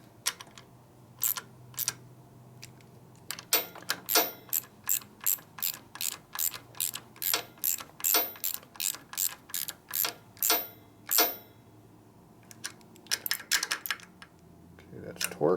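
Torque wrench ratcheting on bolts of a 1965 Harley-Davidson 74ci FLH panhead engine, a long run of sharp, evenly spaced metallic clicks in bursts with brief pauses, close and loud.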